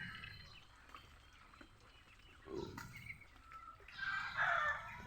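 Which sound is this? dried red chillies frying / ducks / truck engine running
ducks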